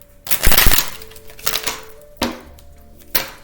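Oracle cards are shuffled and riffled in quick crackling bursts, with a few sharp taps as the deck is squared, close and fairly loud.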